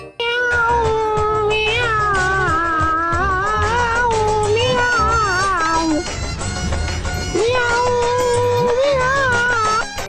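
A cat being teased meows and caterwauls continuously, loud and close, in long wavering cries that rise and fall with only a short break midway.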